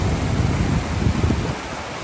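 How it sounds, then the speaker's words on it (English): A freshwater stream rushes down from the hills into the ocean, churning with a low, rumbling wash, steady and fairly close, easing off slightly toward the end. "we have fresh water coming out of the hills"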